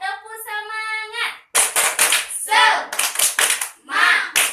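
Children in a classroom perform the rhythmic "tepuk semangat" spirit clap, a run of sharp hand claps in patterned bursts interleaved with young voices chanting and a sung or tonal call at the start.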